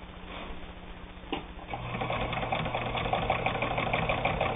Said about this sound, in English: Not a lick of trouble sewing 8 layers of heavy denim.